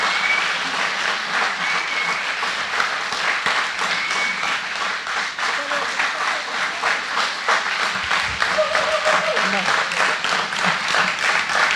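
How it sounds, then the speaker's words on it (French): Sustained audience applause at a tree-avenue colloquium closing, dense and steady throughout with a murmur of voices underneath. "Et je vous demande sincèrement de l'applaudir parce qu'elle le mérite vraiment."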